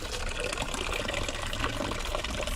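Mineral spring water pours steadily into a bottle at a spring fountain in Colorado Springs, a continuous close rushing splash with no pauses or talk.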